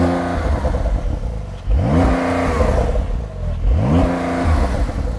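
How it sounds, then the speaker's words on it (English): A car fitted with a £2,180 sports exhaust system, stationary, is revved twice, each rev rising sharply against a soft limiter then falling back to a steady idle, loud and close with no talk. "Start the car up, give it some revs."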